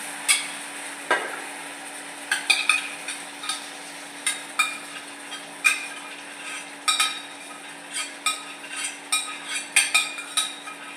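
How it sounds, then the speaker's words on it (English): Soya chunks tossed and stirred in a hot pan, repeated light scraping and clinking of a spoon against metal with a faint sizzle and a steady hum underneath, close and fairly clear. "So I'm adding the soya chunks"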